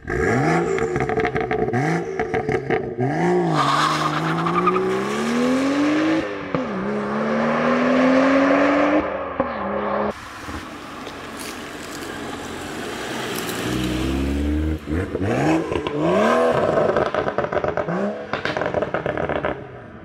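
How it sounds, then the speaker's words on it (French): A 135 car with a manual gearbox makes a launch start. The engine revs climb in repeated rising sweeps, loud and close, with a short lull partway through before it pulls hard again. No talk. "Je vais faire un petit départ, un petit launch, parce que c'est une boîte manuelle avec la 135."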